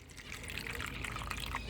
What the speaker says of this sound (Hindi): इधर भी पानी डाल दिया